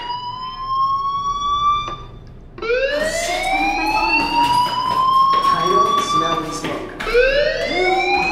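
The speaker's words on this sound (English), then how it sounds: "do you hear that fire alarm?" Electronic fire alarm in the video game Life Is Strange, a loud repeating siren-like wail sweeping upward in pitch, cycling several times and continuing steadily throughout.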